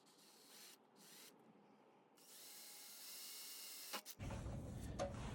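A power drill runs on a carved wooden woodturning piece in a workshop, starting with short faint bursts and then running steadily before a louder, coarser grinding stretch near the end.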